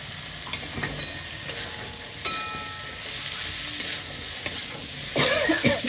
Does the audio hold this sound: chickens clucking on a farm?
no